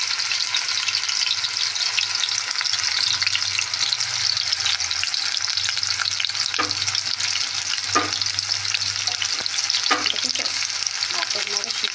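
Food fries in a pan with a loud, continuous close-up sizzle, broken now and then by brief stirring knocks and scrapes, a low hum underneath.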